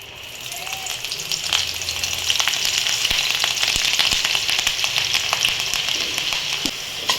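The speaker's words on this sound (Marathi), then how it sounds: "इथे मिरची तळून घेऊ" Chilies frying in oil in a pan for poha chivda, a loud, close, continuous sizzle with scattered crackles and pops, steady throughout with no talking.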